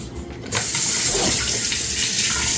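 Tap water gushes steadily into a kitchen sink while small carrots are rinsed, starting abruptly after a brief quiet moment and running loud and continuous to the end.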